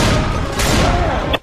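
Burst of gunfire with incendiary ammo in Left 4 Dead 2, a loud, dense stream of shots running without a break for over a second, then cutting off sharply.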